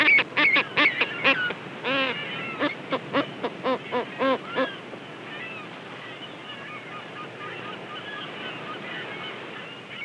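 Angry parent skuas on the wild Patagonian shore give a rapid series of loud, harsh honking calls while attacking intruders near their nest, then fall away, leaving a quieter, breezy background.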